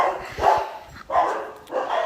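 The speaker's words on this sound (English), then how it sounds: "I can't keep having the dogs interrupting" Dogs barking indoors at home near the front door, three loud close barks in quick succession with short pauses between them.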